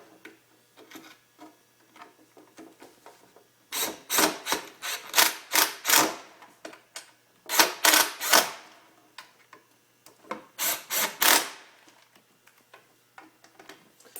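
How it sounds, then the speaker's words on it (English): Screws on a Solowheel being slowly tightened by hand, a close series of quick ratcheting clicks in three bursts separated by short pauses, with faint ticking in between. "you can hold them, make sure they're very straight, and slowly tighten them in"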